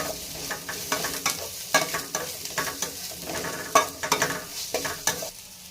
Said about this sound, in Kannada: ಈರುಳ್ಳಿ ಎಲ್ಲ ಚೆನ್ನಾಗಿ ಫ್ರೈ ಆದಮೇಲೆ ನಾವಿಲ್ಲಿ ಕಡಲೆಪಪ್ಪು ಗಸಗಸಿ ಮೆಣಸು ಚಕ್ಕೆ ಮತ್ತು ಸೋಂಪು ಇದೆಲ್ಲ ಹಾಕ್ಬಿಟ್ಟು ಹುರ್ಕೋಬೇಕು